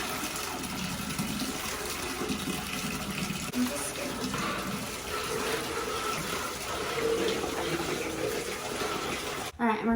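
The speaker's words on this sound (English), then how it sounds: "And this is hot water." Hot tap water running steadily into a sink or tub for laundry soaking, a continuous close hiss and splash with a brief clunk near the end.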